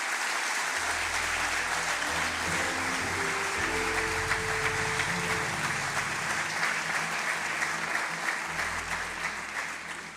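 An audience gives a sustained round of applause for honoured sports champions at a Portuguese sports confederation ceremony. The dense clapping continues for the whole clip and fades slightly at the end.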